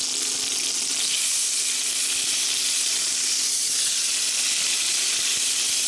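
Filet mignon steaks searing in a Ninja Foodi, a loud, steady, close sizzle with hissing steam and a faint low hum beneath, running without pause and with no speech.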